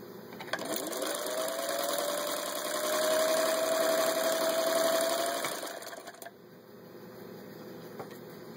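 A vintage Singer 15-91 sewing machine fitted with a pinking attachment stitches through vinyl upholstery, a steady close mechanical whirring hum that rises in pitch midway, then slows and quiets near the end.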